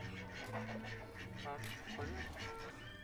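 Several duck quacks, nasal and close, mixed with other honking bird calls and a person talking over them, in a village in Punjab, India.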